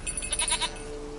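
A goat bleats in The Witcher 3: Wild Hunt, a short nasal cry of several quick pulses lasting about half a second, fairly close, over a steady game ambience that continues after it fades.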